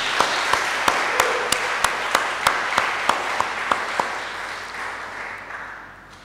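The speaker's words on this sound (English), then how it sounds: "Let us put our hands together with a round of applause" Scattered, sharp hand claps ring out at a steady pace during a church service, backed by a wash of congregation applause that slowly fades toward the end.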